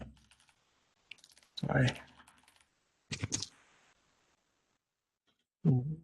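Intermittent typing on a computer keyboard, with a few short clusters of keystrokes separated by silent gaps; a voice briefly sounds alongside some of the bursts.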